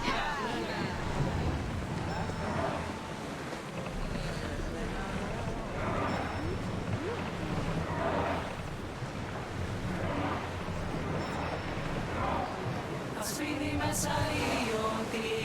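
A ship under sail on the open sea in Assassin's Creed Odyssey, with steady wind and wave wash running throughout and voices talking over it.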